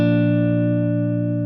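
Electric guitar chords processed through a Guitar Rig effects preset ring out in one long, full, sustained tone for about a second and a half, loud and alone, with a slightly distorted, effected sheen.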